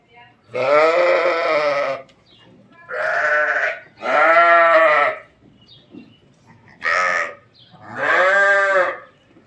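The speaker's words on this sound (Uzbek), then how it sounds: "Ana qo'zilar." Arashan sheep and lambs bleat loudly and close by, five drawn-out wavering calls separated by short pauses, with no other sounds between them.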